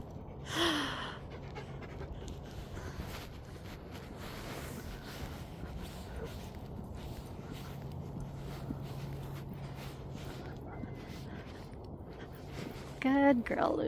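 A small dog pants in quick, breathy bursts on a park walk, close to the microphone, with light rustling and footsteps around it and a person talking nearby.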